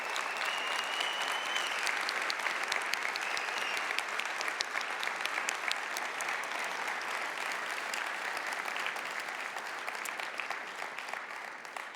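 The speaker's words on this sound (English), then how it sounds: "we can give you a round of applause" A keynote audience at the Guidewire Connections conference applauds the Guidewire All-Stars, a dense, sustained clapping from a large crowd that holds steady and eases slightly near the end.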